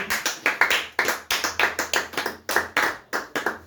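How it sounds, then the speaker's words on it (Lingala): A church congregation claps during a worship service, producing a steady rapid rhythm of sharp, loud claps that continues throughout with no pauses. "tu acclamer plus fort notre Seigneur Jésus"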